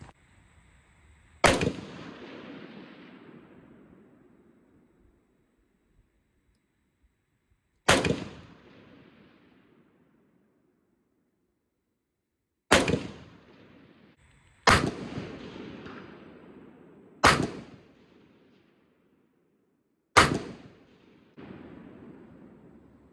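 Six sharp rifle shots from a Sig SG550 crack out at uneven intervals, each loud report followed by a rolling echo that fades over a second or two, with quiet gaps between them.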